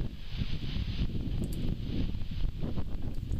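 Wind blows outdoors at a galvanized grain bin being patched with flux-core welding, a steady low rumble of gusts buffeting the microphone with faint rustling, no other sounds standing out.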